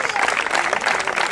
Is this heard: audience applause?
yes